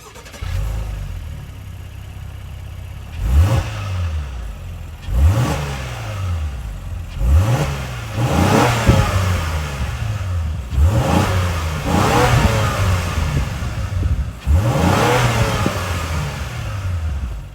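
A 2024 Honda Pilot Touring's 3.5-liter V6 idles, then is revved again and again, six sharp throttle blips rising and falling over a steady idle, loud and close with no talk.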